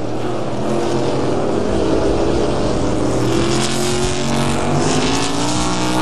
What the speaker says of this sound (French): Oh, ça va être bon, il faut bien réaccélérer, ne pas commettre d'erreur pour Michael McDowell.